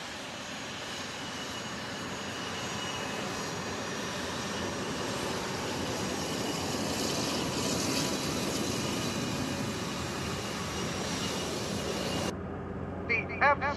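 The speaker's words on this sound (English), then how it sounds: "F-16 jets are flying!" F-16 jets roar overhead in a loud, sustained rush that builds and peaks midway before cutting off abruptly near the end, followed by a few faint sounds.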